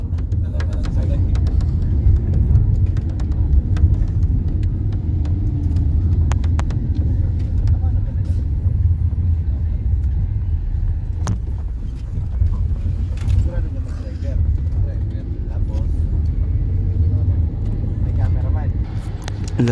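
A large truck rumbles past on a rural road, a deep sustained engine roar close by with people talking over it.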